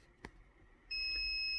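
Pandora car alarm system sounding a steady electronic confirmation beep after its valet switch is pressed, starting partway through and holding loud to the end, with a brief faint click earlier.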